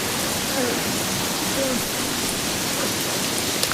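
Heavy rain pours down during a movie fight scene, a dense, constant hiss of downpour with faint, brief voices barely rising above it.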